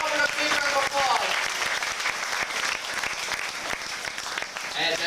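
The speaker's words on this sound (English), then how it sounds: "Let's give you Albert a big round of applause." Theater audience at Disney-MGM Studios breaks into sustained applause, a dense wash of clapping that stays loud throughout, with a voice briefly audible near the end.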